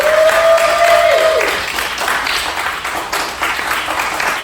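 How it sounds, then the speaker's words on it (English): Audience applause after a guest on a mindset talk show, a steady wash of clapping that begins under a fading held musical tone and continues evenly until a sudden cutoff at the end. "Let's give Stephanie a round of applause"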